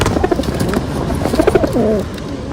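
Pigeons coo nearby in clear, repeated throaty phrases over a background of soft flock chatter.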